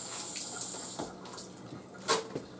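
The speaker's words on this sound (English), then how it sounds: "I always like rinsing some of the spinach." Cold tap water runs into a kitchen sink while spinach is rinsed for juicing, giving a steady close splashing wash with a brief louder gush near the end.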